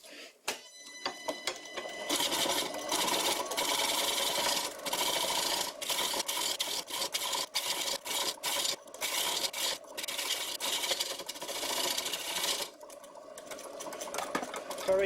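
A homemade bowl gouge cuts into a spinning wood bowl on a lathe, trimming the side to remove the pith, giving a loud, continuous rasping scrape that falters in brief gaps as the tool lifts and re-engages.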